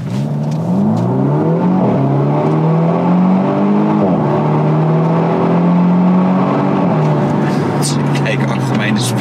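A Volvo V60 T8 hybrid car accelerates hard from inside the cabin, its engine note rising through several gear changes in a loud, sustained pull, with people talking over it.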